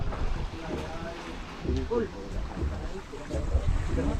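Steady low engine-and-water rumble of a boat underway off Jomalig Island, with wind buffeting and voices talking over it throughout.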